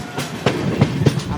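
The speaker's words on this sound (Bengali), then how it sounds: "আমরা দেখছি ট্রেন ছেড়ে দিয়েছে।" The Mahananda Express running on rails, heard from inside the train as a steady rumble with rhythmic clickety-clack wheel beats over rail joints, fairly loud and close.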